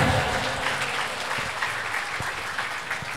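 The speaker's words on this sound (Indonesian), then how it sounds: "Beri tepuk tangan yang meriah." A crowd of company staff claps at a halal bihalal gathering at a factory plant, lively sustained applause that starts strong and eases slightly while staying continuous, with a few low thumps beneath.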